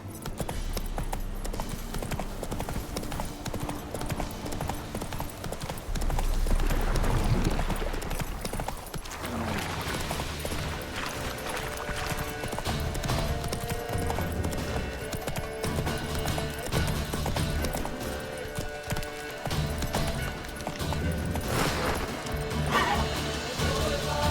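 Roach, the horse in The Witcher 3, gallops with steady rhythmic hoofbeats that run continuously and close under game music and ambient sound, without any voice.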